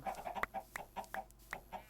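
Chickens in a video game cluck in short, repeated bursts with a steady, rhythmic pattern, faint but clear and heard alone.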